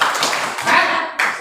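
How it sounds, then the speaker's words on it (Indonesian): A brief rhythmic spirit clap in a primary school class, a few loud, close hand claps in a quick patterned burst lasting about a second and a half. "Tepuk semangat."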